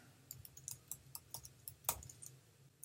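Light clicks from a computer keyboard as someone types a short word, irregular quiet taps followed by one sharper keystroke like hitting enter, faint and close in a quiet room.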